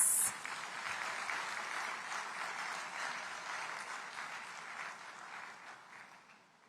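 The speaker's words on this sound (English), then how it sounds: "Please give a round of applause to Dr." An audience at the Ghana Diaspora Summit 2025 applauds in a steady, dense, even round of clapping that holds for several seconds and slowly fades toward the end.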